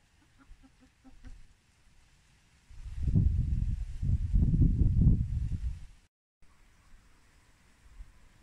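Hens clucking after coming down from the tree branch where they roost, a cluster of soft, close, overlapping clucks and low murmurs swelling for a few seconds, with scattered faint calls before and after.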